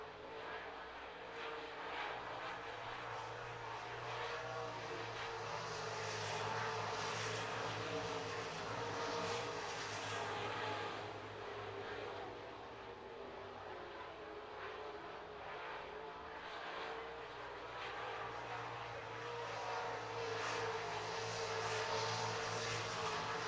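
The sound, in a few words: late model street stock race car engines on speedway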